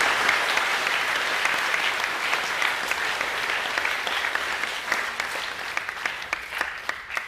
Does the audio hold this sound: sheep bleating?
no